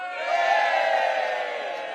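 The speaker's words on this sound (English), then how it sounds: "Let's make this way while they're cheering." Loud, sustained cheering from a big crowd at a political gathering in London, a dense roar of many voices that stays steady throughout.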